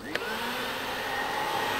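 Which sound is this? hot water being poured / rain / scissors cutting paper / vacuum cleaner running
vacuum cleaner running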